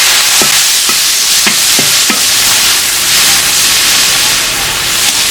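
Ginger and garlic stir-fry in hot oil, a loud continuous sizzle broken by several sharp scraping stirs of a spatula against the wok early on, then a steady hiss.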